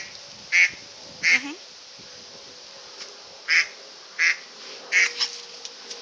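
A dog's squeaky toy duck gives about six short, loud quacks in an irregular rhythm, separated by near silence.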